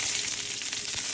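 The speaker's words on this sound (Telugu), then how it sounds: "చూడండి కొంచెం ఆవాలు ఇక్కడ వేసుకోవాలా, కొంచెం అంత డ్రై చిల్లీస్ వేసుకోవాలి" Mustard seeds and dry chillies sizzle in hot oil, a loud, steady, close crackling hiss that holds evenly the whole time, with no voice over it.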